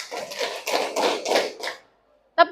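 Students in a classroom clap a counted rhythm, five quick, even claps in a row followed by a short silence and the start of a voice.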